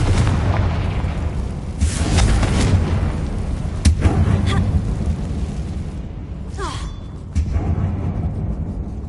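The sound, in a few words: Confringo blasting spell explosion, video game Hogwarts Legacy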